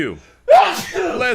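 One abrupt sneeze bursts out loudly after a moment of quiet, followed by voices talking right away.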